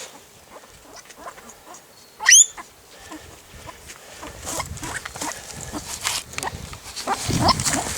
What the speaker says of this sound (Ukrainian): Справді порося.